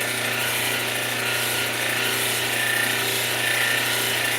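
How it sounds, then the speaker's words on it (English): A lapidary polishing wheel at 660 grit works a Thunderegg agate core from Central Oregon, giving a steady, loud whirring grind with no pauses. "right now we're on the 660 grit, polishing a Thunderegg core from Central Oregon"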